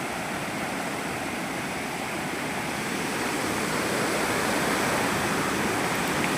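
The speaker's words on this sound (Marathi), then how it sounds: "हा वॉटरफॉल अतिशय सुरक्षित असा वॉटरफॉल आहे हा" Steady, full rushing roar of the waterfall at Vyaghreshwar temple in Pen, with water plunging down a cliff edge into a valley. It holds an even, dense wash throughout, near and loud, with no voices.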